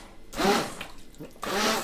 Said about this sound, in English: the idea is to put the blender right to the bottom of the pan and just pulse every now and again